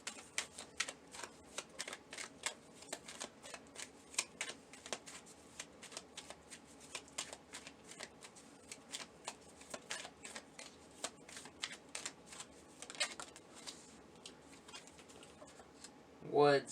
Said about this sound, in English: let me pull a few message cards